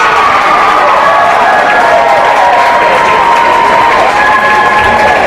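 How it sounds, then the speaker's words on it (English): Basketball crowd at a high school boys' game roaring after a foul is called on the opposing team: a steady, loud wash of cheering and clapping across the whole stretch. "The Bobcat fans cheer that a foul was called on a Knight"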